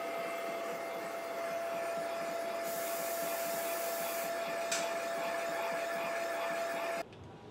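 A boring head machines a classic Porsche 911 engine case, a steady whirring machine drone with a constant tone throughout, cutting off sharply near the end; no talking.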